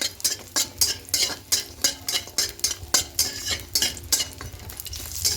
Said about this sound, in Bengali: বড়িটা দিয়ে হালকা নাড়াচাড়া করে একটু লাল করে ভেজে নেব